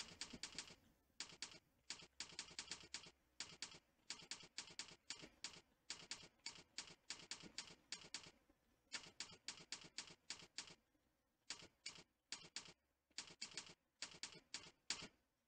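Steady typing on a computer keyboard during a typing-practice drill: quick bursts of crisp key clicks at close range, broken by short pauses, with no voices.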